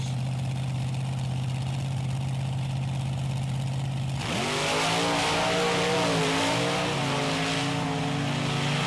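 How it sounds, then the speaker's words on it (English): Monster trucks Bigfoot Cruiser and Dennis Anderson's Grave Digger race head to head, loud engines droning at idle before roaring and revving hard as they launch, a dense, continuous crowd-filled din with no talk. "Lonnie Childress in the far lane in the Bigfoot Cruiser up against Dennis Anderson's Gravedigger."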